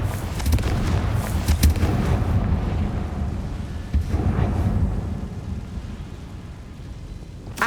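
Confringo fire spell blasts in Hogwarts Legacy, a run of loud booming impacts with deep rumble, strongest early and then another heavy hit midway before fading into a lingering roar.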